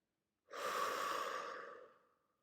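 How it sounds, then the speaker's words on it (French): A slow, soft exhale during a guided sophrology relaxation breathing exercise, one steady breath heard close up and alone that eases in gently and trails off over about two seconds. "souffle doucement pour la diffuser dans ton corps"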